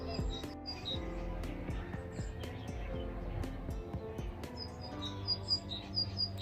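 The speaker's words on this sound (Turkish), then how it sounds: "Kuş seslerini duyuyor musunuz arkadaşlar?" Several birds chirp and tweet in short high bursts, scattered across the scene at moderate distance, with some low background noise and knocks.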